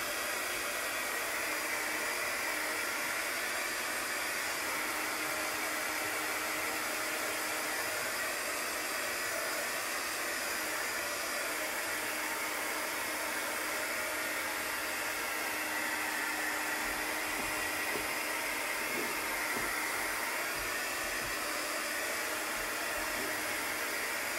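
A handheld heat tool blows continuously while drying chalk paste on a craft project, a steady, loud, breathy whoosh that holds unchanged for the whole stretch.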